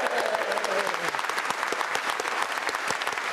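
A studio audience claps loudly for women's rugby World Cup winners, a thick, steady burst of applause with a few voices calling out in the mix.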